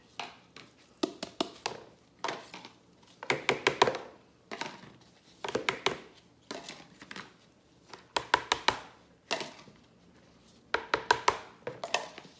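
Dry fizzy drink bomb ingredients tipped into a bowl, heard as repeated clusters of sharp, close taps and thunks in quick bursts with short pauses between, no talk.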